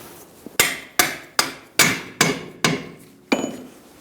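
Hammer striking to seat a rear shock absorber into the trailing arm of a 2010-2014 Subaru Outback, seven sharp metallic blows at a roughly even pace, close and loud, alone with no voices.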